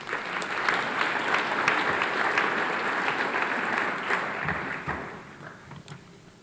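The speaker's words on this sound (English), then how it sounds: "Let's give all of our National Merit Commended students another round of applause." An audience at an academic excellence awards ceremony gives National Merit Commended students a round of applause, a dense, steady clapping from a sizable crowd that holds strong and then gradually thins out.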